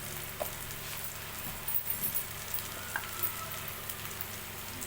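Ginger garlic paste and spices frying in a pan for an egg recipe, a steady soft sizzle with a few brief stirring scrapes, heard alone without talk.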